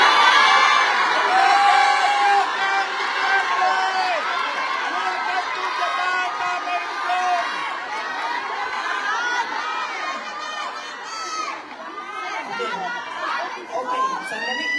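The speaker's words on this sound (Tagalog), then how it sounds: "Tatagal tayo sa sigawan ninyo." A live audience at a political gathering of Filipino overseas workers in Japan shouts and cheers loudly and continuously, a dense mass of overlapping voices and whoops that swells and dips slightly without pause.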